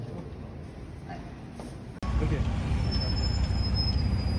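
Road traffic beside a former internment camp site in France, with trucks parked nearby: a steady broadband roar that jumps louder halfway through and continues, with a faint high whine running through the louder part.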